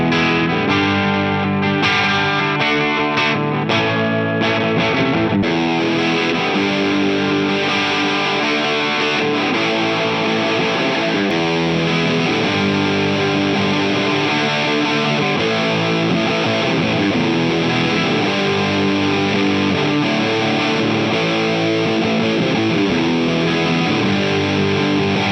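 Electric guitar driven through an Xotic SL Drive overdrive pedal into a Marshall Plexi-style setup and 4x12 cabinet, playing dense, distorted chords and riffs continuously and loudly with no talking.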